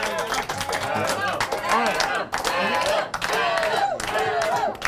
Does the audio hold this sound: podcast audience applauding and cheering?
yes